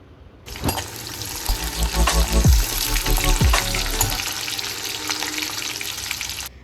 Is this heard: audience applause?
no